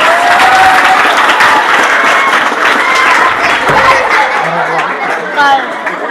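An audience at a school quiz competition for classes five to seven claps in a loud, sustained burst of applause, mixed with chatter and brief laughter.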